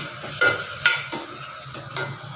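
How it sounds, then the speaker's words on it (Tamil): Tomatoes with turmeric sautéing in a pan for dal rice, with a soft steady sizzle beneath several sharp scrapes and clicks of a spoon stirring against the pan, close and moderately loud. "தக்காளி நல்லா வதங்கட்டும்."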